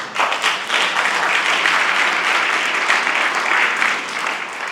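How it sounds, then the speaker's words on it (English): An audience at a Tibetan National Uprising Day gathering gives a full round of applause, dense and loud, holding steady for several seconds before easing slightly at the end. "give yourselves a round of applause"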